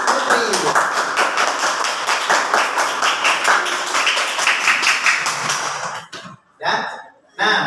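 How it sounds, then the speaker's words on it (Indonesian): A classroom of students claps for a classmate, a dense burst of close, overlapping claps that fades out after about six seconds, followed by a few short scattered claps. "Tepuk tangan untuk Putri."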